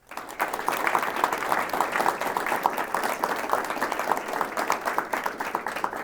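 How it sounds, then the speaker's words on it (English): An audience at a Women in Subscriptions gathering in Utah breaks into applause that starts quickly and stays steady, with many individual claps audible in a moderately loud, room-sized burst. "let's give everybody a round of applause"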